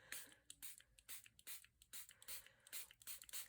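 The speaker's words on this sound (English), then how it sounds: "Give it a little spray." A misting spray bottle is pumped over a paper flower craft project. It gives about ten quick hissing puffs in a fast, even rhythm, close up and fairly soft, with no talk.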